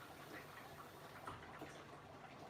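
Water poured into a pot of rice for cooking, a faint steady trickling wash that runs on without a break, alone and quiet.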